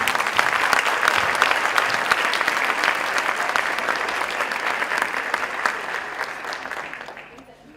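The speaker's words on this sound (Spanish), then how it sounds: "Un aplauso para ella." An audience applauds loudly and continuously at a talk, the clapping thinning out and fading toward the end.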